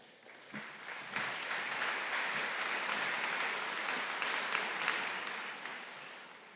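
Applause and cheering from a commencement audience at a veterinary medicine graduation, a steady wash of clapping that swells after the first second and holds at a fairly even level throughout.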